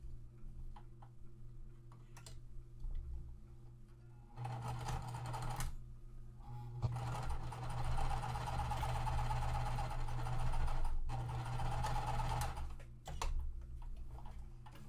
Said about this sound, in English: we are just sewing the 2 squares together